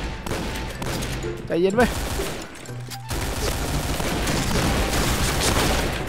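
A pellet-firing gun lets off bursts of rapid gunfire between loud, excited shouting voices, with a brief sharp crack cutting through the talk.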